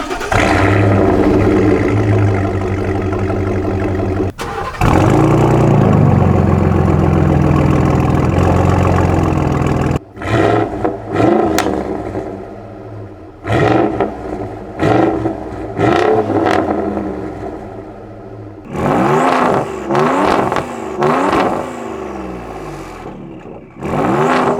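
Ford Raptor's 6.2 liter naturally aspirated V8 idling loudly up close, then blipped through a series of sharp, repeated revs that surge and fall back in quick bursts.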